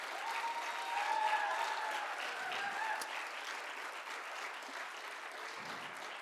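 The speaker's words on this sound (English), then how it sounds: "I think they need a round of applause." An awards-ceremony audience applauds the athletic director team of the year with sustained, fairly distant clapping that stays even and slowly fades.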